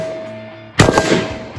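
A single sharp rifle shot fired with a remounted ACOG scope cracks loudly and close, followed by a brief rolling echo outdoors on a range.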